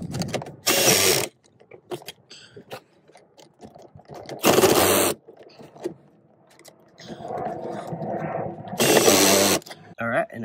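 Three loud, close bursts of a power driver or ratcheting wrench fastening bolts on a Yitahome utility cart during assembly, each burst about half a second long, with quieter handling noises between them.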